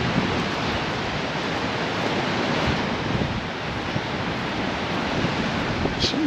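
Strong wind gusts and roars steadily across a beach resort promenade at Playa de Palma in Mallorca, a broad, rushing noise with buffeting against the microphone and surf mixed in.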